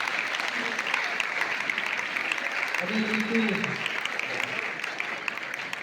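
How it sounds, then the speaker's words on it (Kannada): Students and audience applauding at a Kannada honouring ceremony, steady sustained clapping throughout with a voice speaking briefly over it. "ಸರಿ ಒಂದು ಚಪ್ಪಾಳೆ ವಿದ್ಯಾರ್ಥಿಗಳು"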